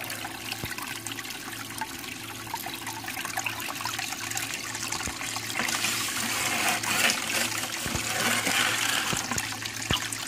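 Water pours and trickles steadily while dredge concentrates, screened to 30 mesh after a 4-inch dredge outing, are panned outdoors, a continuous splashing wash with no talking.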